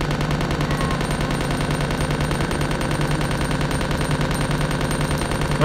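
Rapid automatic gunfire from a weapon in Resident Evil 2, a dense, evenly spaced stream of loud close shots running unbroken the whole time, with no talking.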